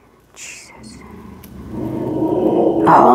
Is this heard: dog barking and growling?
yes